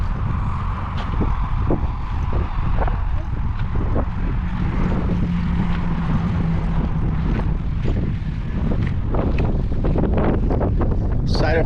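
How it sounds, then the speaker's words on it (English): Strong wind at the historic Fort Martin Scott grounds buffets and roars across the microphone in continuous gusts, with a low rumbling undertone throughout. "I know it's windy."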